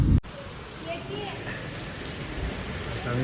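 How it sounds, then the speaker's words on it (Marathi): Steady rain falls around a hilltop temple, a dense continuous hiss close by, opening with a brief louder burst before settling into an even wash. "मंदिराच्या सभोवती बघा सगळं पाऊसच पाऊस आहे"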